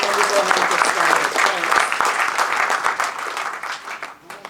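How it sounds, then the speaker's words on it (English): An audience applauds in a dense, steady burst of clapping that gradually thins and fades toward the end. "let's go ahead and just give everybody a round of applause"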